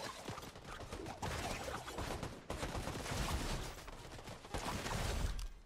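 Rapid bursts of gunfire in a multiplayer shooter video game crackle in dense, overlapping volleys, moderately distant and steady throughout with no talk.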